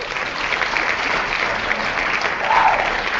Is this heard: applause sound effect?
yes